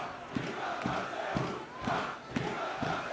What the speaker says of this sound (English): This crowd is loving it